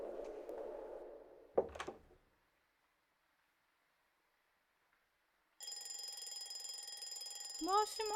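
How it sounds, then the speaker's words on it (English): A video game alarm rings in a steady electronic tone during a horror-style multiplayer session, starting abruptly after a near-silent gap and continuing loudly, with a short burst of talk and noise before it. "Oh wait, that's an alarm, not a phone."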